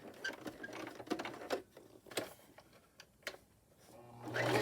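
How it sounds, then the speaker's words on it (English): A sewing machine stitches a denim jean skirt for an 18-inch doll in quick bursts of rapid mechanical patter, pausing between runs and ending with a louder stretch. "stopping my needle down, sewing towards this point"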